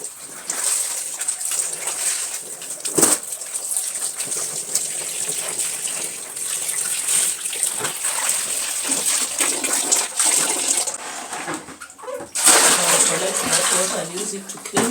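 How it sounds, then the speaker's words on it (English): Water gushing and splashing while clothes are rinsed in a bucket, a continuous close rush with sloshing bursts and a few sharp splashes. "The final rinsing is here."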